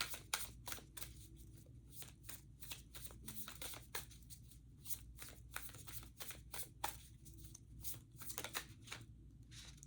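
Continuous close-up tarot card shuffling, rapid papery flicks and light taps repeating in an even rhythm, with no voices.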